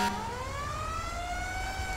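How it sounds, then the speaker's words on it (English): A fire truck siren in GTA 5, from an International 4400 pumper tender, wails loudly and close with a rising tone over engine rumble, filling the short stretch with no talking. "Let's put our siren on really quickly."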